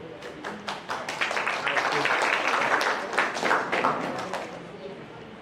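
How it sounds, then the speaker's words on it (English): An audience at an education conference claps for two middle school presenters, with dense applause rising quickly, holding for several seconds, then thinning out. "Please give them a round of applause."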